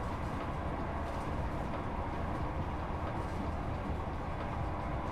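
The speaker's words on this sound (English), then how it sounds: "That's very loud. Just as diesels should be" A diesel train engine in Train Sim World 4 rumbles in a loud, steady, dense roar with no breaks or voices, a continuous close mechanical drone throughout.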